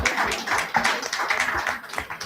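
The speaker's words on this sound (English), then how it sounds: "This is the time to clap." Audience clapping at a gender lens finance breakfast dialogue, an uneven patter of hand claps that rises and fades in small bursts for about two seconds, moderately loud, with a voice faintly underneath.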